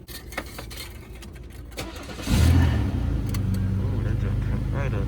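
A car at an auto auction cranks briefly and fires up quickly, then settles into a steady idle close by, after quiet rustling and faint talk.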